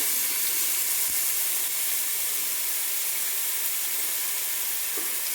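Chopped onions drop into hot oil for an egg biryani, setting off a steady, loud sizzling hiss that runs the whole time, with a couple of faint clinks.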